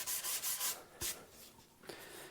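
Sandpaper rubs across the wooden body of a thinline bass guitar in several short, close strokes, then a couple of lighter scrapes.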